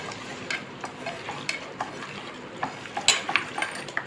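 Chicken pieces for biryani, cut medium-sized, get stirred and tossed in a vessel, giving soft scattered scrapes and clinks with a few brighter metallic taps near the end, moderately quiet and without any voices.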